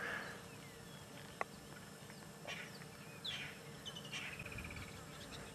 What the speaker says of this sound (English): For a bird with such beautiful colors, it's got a very, very harsh call.